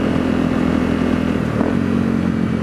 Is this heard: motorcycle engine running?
yes